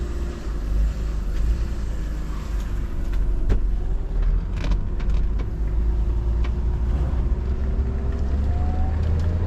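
Engine and road rumble from a BMW E36 Z3 roadster being driven, a steady low drone with tire and wind noise throughout, fairly close and continuous with no talking.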